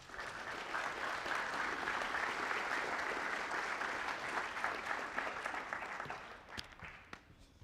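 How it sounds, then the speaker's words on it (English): Guests at a youth soccer club's senior night give a round of applause for a graduating senior player, a sustained wash of many hands clapping at moderate distance that thins out after six seconds into a few scattered claps. "give him a nice round of applause"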